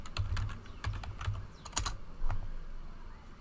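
Computer keyboard typing in short irregular bursts of close, crisp key clicks, entering labels into a spreadsheet or statistics program, with brief pauses between bursts and no talk.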